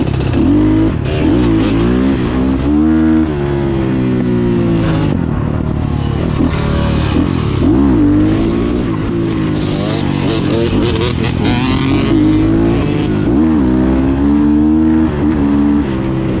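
A loud motorcycle engine revs hard and continuously during a wheelie at an aerodrome, its pitch rising and falling in surges, close by and dominating throughout.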